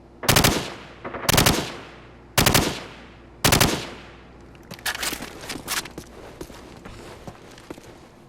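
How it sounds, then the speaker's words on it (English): An assault rifle fires in Call of Duty 4. Four loud, sharply separated short bursts come first, followed by a run of quieter, choppier bursts, with no speech over them. "Blind fire, short bursts. Scope fire, short bursts."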